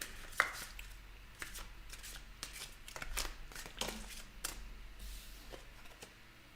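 A deck of tarot cards is shuffled by hand in irregular soft riffles and slaps, close and quiet, with no talking.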